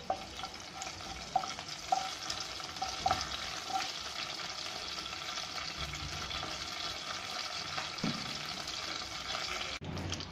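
Curry leaves frying in oil with mustard seeds and cumin for an onion chutney, a low steady sizzle with faint pops and an occasional clink, fairly quiet, with no voices.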